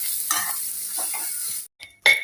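Amla and jaggery stirred in a pan, a spatula scraping through the thick mixture in several close strokes over a steady sizzle, then a brief pause and a sharper final scrape.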